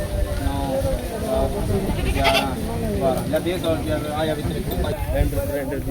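Several goats bleat repeatedly at a goat sale in Punjab, wavering cries overlapping close by against a constant noisy background.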